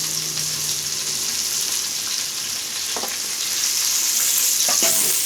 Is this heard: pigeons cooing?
no